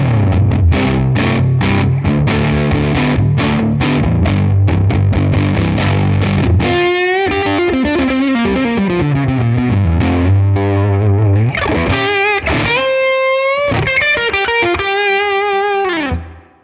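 Electric guitar on its neck pickup runs through a Tonex amp capture with distortion, first a fast chugging riff of chords, then sustained bending lead notes, loud and alone.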